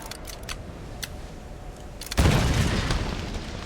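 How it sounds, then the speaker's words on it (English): A single loud grenade explosion in Tomb Raider detonates a glowing mine, bursting suddenly after faint ticking clicks and leaving a long, heavy rumbling roar that slowly decays. "I will fire a grenade at it."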